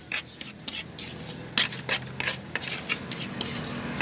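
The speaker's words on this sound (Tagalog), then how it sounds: "Halo-halo the brown sugar." Brown sugar stirred in a pan for corn polvoron, with a spoon scraping and rasping against the metal in short, uneven strokes, close and fairly quiet with no talking.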